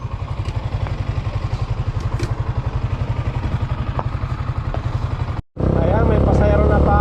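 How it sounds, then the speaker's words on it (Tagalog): A big motorcycle engine thumps at a steady, fast idle pulse, then cuts briefly and roars louder, with voices talking over it. "Laki ng makina."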